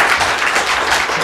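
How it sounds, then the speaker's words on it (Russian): Audience at a stand-up comedy show applauding, a dense, even wash of many hands clapping throughout, close and unbroken. "Я ощущение, что я украл эти аплодисменты"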